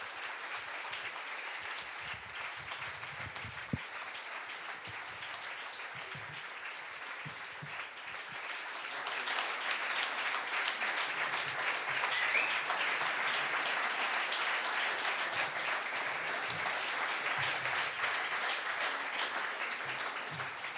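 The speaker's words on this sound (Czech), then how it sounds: "A v tuhle chvíli už prosím vás přivítejte bouřlivým potleskem" A lecture audience gives a long welcoming round of applause for a speaker on gender, the clapping steady and fairly distant at first, then growing noticeably louder and fuller about halfway through and holding strong to the end.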